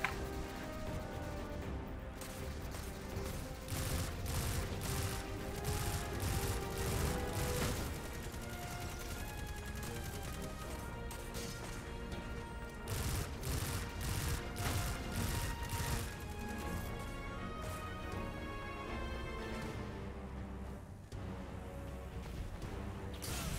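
Dense, continuous bursts of gunfire and explosive impacts fill a chaotic firefight in the video game Destiny 2, loud and relentless throughout.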